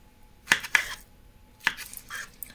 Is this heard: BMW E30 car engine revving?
no